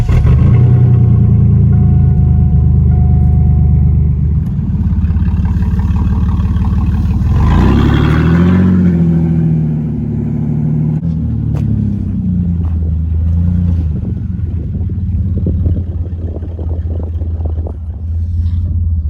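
A Chevrolet Blazer engine rumbles loudly and close while pulling a mud-stuck square body truck toward a shop, swelling into a revving surge midway before settling back to a steady, heavy idle-like drone.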